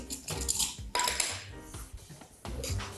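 A small spoon scoops barley for a harira, making close clinks and scraping rattles of grain against a container in short bursts.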